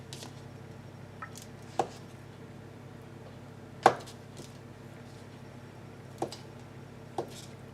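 Boiled eggs chopped into thick rough chunks with a knife on a cutting board for potato salad, a few sharp, isolated knife thuds spaced irregularly over quiet background, close and distinct.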